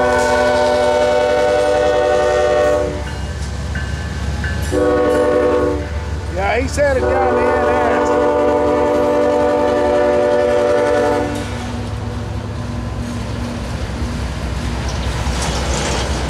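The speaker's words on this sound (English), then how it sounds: "Looks like we got a CSX Autorack." A CSX autorack freight train rolls past close by, its horn blaring in long sustained blasts over the steady rumble and clatter of the railcars, the horn breaking off briefly before sounding again and fading out toward the end.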